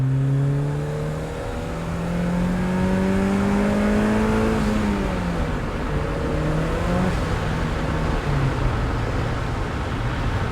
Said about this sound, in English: Get a listen to this blow-off valve.